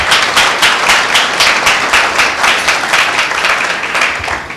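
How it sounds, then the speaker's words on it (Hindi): A church congregation at a Pentecostal meeting bursts into loud, hearty applause, many hands clapping together in a dense, slightly rhythmic wash that carries on for several seconds. "एक जोरदार ताली बजाएंगे।"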